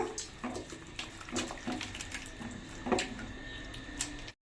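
Basmati rice being washed in water by hand, close splashing and swishing with repeated squishy sloshes in an irregular rhythm, quiet and without talk, ending abruptly.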